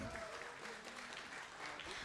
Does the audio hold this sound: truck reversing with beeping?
no